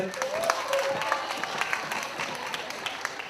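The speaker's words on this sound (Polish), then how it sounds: "proszę o brawa dla Justyny" Fairly faint applause from an audience at a steam locomotive festival pageant, a steady patter of clapping under some talk and background noise.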